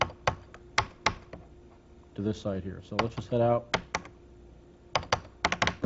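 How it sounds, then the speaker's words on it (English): Keys clicking on a Commodore Amiga keyboard, sharp separate taps in small groups spread across the clip, with someone talking in the middle and a faint steady hum underneath. "hitting the Control key, then the Alt key. And you hit the Control key twice, then the Alt key twice"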